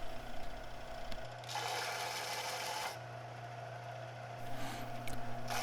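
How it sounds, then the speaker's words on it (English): Belt sander smoothing excess glue off a wooden strop block, a steady mechanical hum with intermittent brighter rasping passes as the wood meets the belt; faint and close, no voices. "any excess remaining can be sanded smooth on the belt sander."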